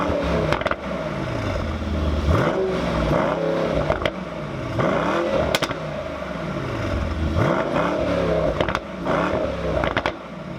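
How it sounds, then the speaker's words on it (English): A 2018 Mercedes-AMG E63 S Edition 1 with a performance exhaust revs repeatedly, close and loud, each blip rising then falling back with crackles and pops between, in a steady series of throttle stabs. "let's hear how that AMG performance exhaust system sounds"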